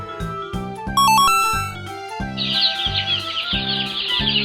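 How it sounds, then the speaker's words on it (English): A baby chick chirps in a rapid stream of thin, high peeps that start partway through, layered over an upbeat children's melody. "chick"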